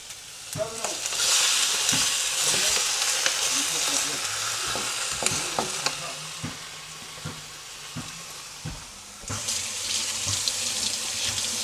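Chicken wings browning in olive oil in a pan, giving a loud, steady sizzle with scattered pops and crackles throughout and no talking.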